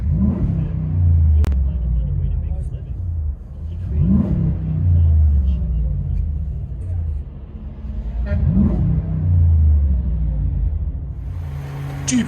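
Heard from inside the cabin, a 2008 Jeep Grand Cherokee 5.7L HEMI V8 with a Flowmaster 50 Series exhaust revs three times at steady intervals, each a muffled swelling roar over a continuous low idle rumble.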